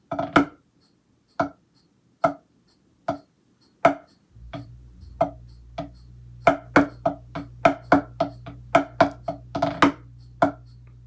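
Sharp, crisp snare drum hits sound alone, sparse and evenly spaced at first, then coming faster and denser over a low sustained hum.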